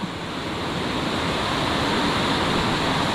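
Floodwater surging down a river after heavy rain, strong enough to wash away a newly built bridge: a loud, continuous, dense roar of rushing water with no break or pause, close and unrelenting.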